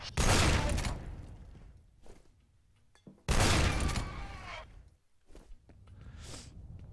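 Gunfire from a weapon in the PC shooter F.E.A.R., two loud, close bursts of heavy shots, each with a sharp attack and a rumbling tail, separated by a quieter gap with faint footsteps and clatter.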